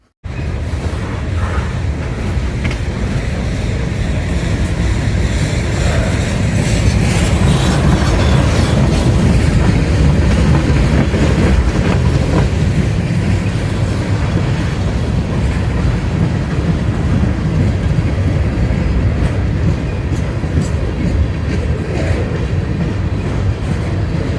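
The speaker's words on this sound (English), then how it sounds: "had to wait for a while for the train" A train rolls past near Dalton on the Appalachian Trail, a loud, close, continuous rumble of wheels and cars with rattling clatter that holds steady for the whole stretch.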